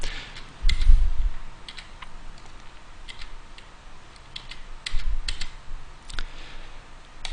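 Sparse clicks of a computer keyboard being typed on while adding spacing to a page in a website admin editor, faint and intermittent over a quiet room hum.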